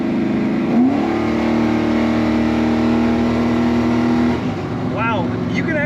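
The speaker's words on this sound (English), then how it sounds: "Let's hit the throttle again." A 1981 GMC C1500 pickup set up as a race truck revs hard, its loud engine climbing in pitch, holding a steady high drone, then dropping away, with a brief squeal near the end.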